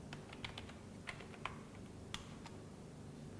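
Several light, scattered clicks from a computer keyboard being typed on during a computer lecture session, faint and irregular over a steady background hum, with no talking.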